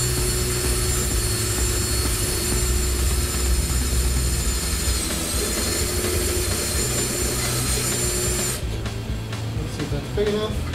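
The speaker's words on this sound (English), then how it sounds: "You drill it out to the perfect size every time." Power drill with an auger bit boring a hole, a loud continuous roaring whir that runs steadily for about eight seconds, then drops away into quieter rattling as the drilling stops.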